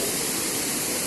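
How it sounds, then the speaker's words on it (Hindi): Large waterfall pouring down from above after overnight rain on a mountain trail, a dense, steady roar of rushing water close by, filling the whole clip with no pauses. "देखिए दोस्तों ऊपर से कितना बड़ा झरना आ रहा है"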